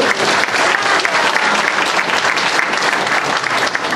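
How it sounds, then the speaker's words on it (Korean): Audience applause at a panel discussion on railways and inter-Korean relations, honoring a 91-year-old guest; steady, dense clapping from a full room, loud and sustained throughout with no voices. "박수 한번."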